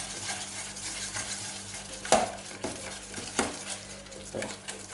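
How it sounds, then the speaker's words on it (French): Homemade play dough mixture being stirred as it cooks in a pan over medium heat, with soft scraping strokes, a few sharper knocks of utensil on pan and a faint background hum, fairly quiet and close. "Alors, je fais cuire en mélangeant."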